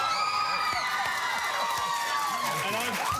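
A large studio crowd at an Australian TV interview cheers and squeals loudly and continuously, a dense chorus of high-pitched screams and shouts with voices rising and falling throughout.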